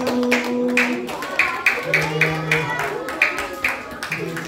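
Children at a Korean church youth Sunday service clap in a steady rhythmic beat to welcome a new teacher, crisp repeated claps nearby with voices singing or calling along underneath.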